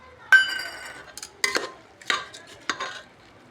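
Rice and garam masala being stirred in a cooking pot for green pea pulao, several distinct clinks and scrapes of a spoon against metal at an irregular pace, close and fairly quiet, with no talking.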